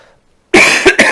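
A single sharp cough bursts out after a half-second of near silence, followed by two shorter coughs in quick succession, close and loud.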